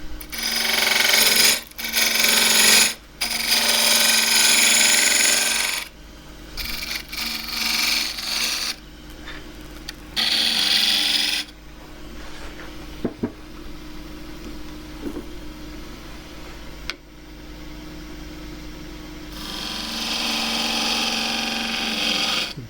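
Wood lathe turning dry jarrah burl, with bursts of high, hissing cutting noise as the tool bites, broken by pauses and quieter spinning between passes.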